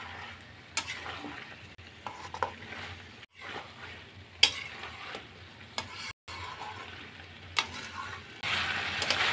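Meat being braised and stirred in a pan, a soft steady sizzle with irregular scraping and clinks of the spoon against the pan, fairly quiet and close, with no talking.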